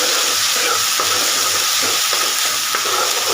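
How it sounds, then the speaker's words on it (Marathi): Onion-tomato gravy for rajma curry fries in hot oil with a loud, steady sizzle, broken by soft scraping strokes as it is stirred in the pan. "त्याचा कच्चेपणा जाईपर्यंत आपल्याला ही ग्रेव्ही फ्राय करून घ्यायची"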